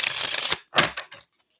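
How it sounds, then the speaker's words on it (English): Tarot cards shuffled by hand in a quick riffling burst, a pause, then a shorter second shuffle and a faint final tap; close and papery, with no voice. "Let me just get one more good shuffle here."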